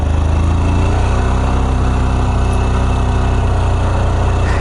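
A 125cc manual motorcycle engine runs close and loud, holding a steady, even drone throughout with no clear rise or fall in pitch.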